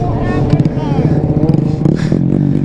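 A Honda Grom motorcycle wheelies close by, its small engine revving and clattering loudly while people shout and talk over it.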